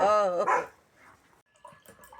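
Small dog barking outdoors at a rural home, a couple of quick sharp barks close by at first, then faint scattered noises and quiet.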